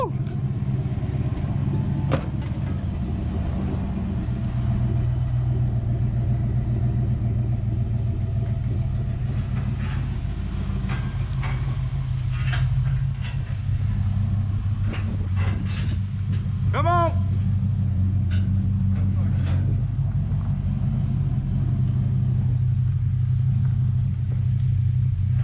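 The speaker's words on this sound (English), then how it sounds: "You're supposed to say, I'm about to drive my truck." A 440 Dodge truck engine runs and drives with a deep, steady rumbling drone throughout, loud and close, while people talk and shout over it.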